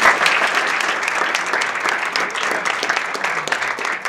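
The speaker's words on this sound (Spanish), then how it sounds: "Yo les pido a todos que pongamos las manos también para un aplauso de estos futuros artistas." Dense, steady applause from an audience at a national drawing and literature contest ceremony, honoring young artists; continuous clapping fills the moment at a fairly loud, even level.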